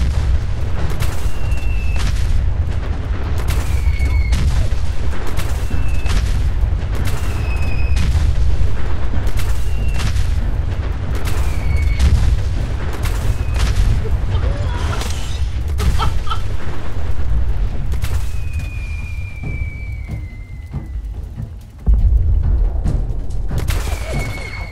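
Heavy-weapon launcher explosions in the video game Fallout 4 boom loudly again and again at a rapid, fairly regular pace, with short whistling streaks between some of the blasts.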